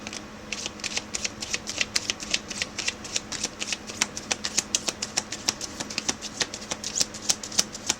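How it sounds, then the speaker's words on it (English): Playing cards are riffled and shuffled over and over, producing a quick run of sharp, crisp flutters and slaps close to the mic in an uneven but steady rhythm. "The cards don't want to shuffle."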